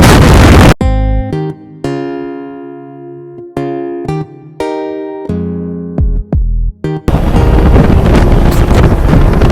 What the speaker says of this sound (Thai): มีเสียงลมแล้ว